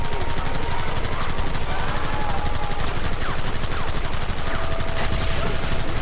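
Dense, loud gunfire in the Western video game Red Dead Redemption: rapid overlapping shots and bursts fill the whole stretch without a break, like a heavy fusillade.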